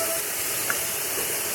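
Squash going into a hot pan for a scrambled omelet, giving a steady, fairly loud steam-like hiss and sizzle that holds evenly throughout with no talking.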